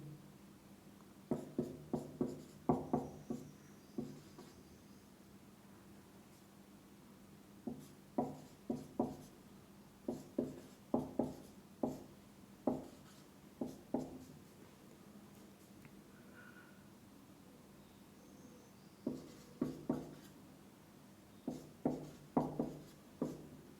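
Chalk or a marker writing a math formula on a board during a lecture, heard as faint, irregular taps and short strokes in clusters with pauses between, over a steady low room hum.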